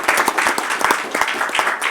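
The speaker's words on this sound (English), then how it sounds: "Let's give them a round of applause" Lively applause at a city redevelopment agency meeting, crisp individual claps standing out within a continuous wash of many hands, loud and close throughout.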